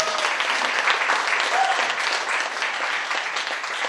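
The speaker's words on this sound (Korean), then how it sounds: "다시 한번 뜨거운 박수 부탁드립니다." A large crowd at a book concert claps enthusiastically after a song, filling the space with a dense, sustained wash of applause at an even volume throughout.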